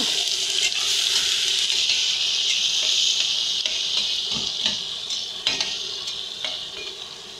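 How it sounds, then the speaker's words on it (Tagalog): Garlic sautéing in a hot pan with onion and tomato, a loud steady sizzle with stirring scrapes and clinks throughout, easing slightly toward the end. "Gigisa na natin yung bawang. Siyempre, yung sibuyas sa kamatis, pagsamahin na rin natin."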